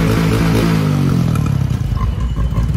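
A motorcycle engine revs loudly and close, its pitch sliding up then settling into a rough, throbbing exhaust rumble.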